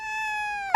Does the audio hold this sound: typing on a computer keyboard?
no